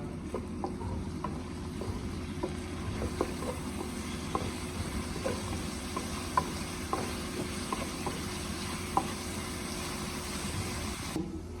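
Mixed vegetables fry over a moderate flame for fried rice, giving a low steady sizzle with regular spoon taps and stirring scrapes against the pan, close and fairly quiet, with no talk.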